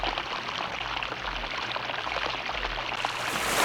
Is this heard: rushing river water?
yes